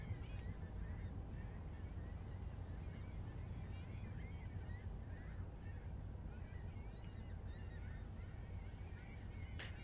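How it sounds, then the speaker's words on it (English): Seagulls crying at sea off a North Atlantic fishing boat, a loose run of squawks rising and falling over a constant deep hum of engine and wind, fairly distant and steady throughout. "Figured I'd just let y'all listen to the"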